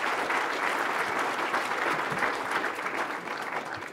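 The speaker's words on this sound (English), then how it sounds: "So please give yourselves a round of applause." Conference audience breaks into sustained applause, a dense wash of many hands clapping steadily throughout, fairly distant and even in level with no voices standing out.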